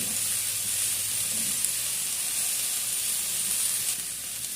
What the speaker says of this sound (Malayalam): ഇനി നമുക്ക് ഈ ചൈനീസ് ക്യാബേജ് അരിഞ്ഞത് ഇട്ട് കൊടുക്കാം നല്ലോണം ഒന്ന് മിക്സ് ചെയ്ത് കൊടുക്കാം